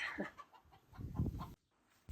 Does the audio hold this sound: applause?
no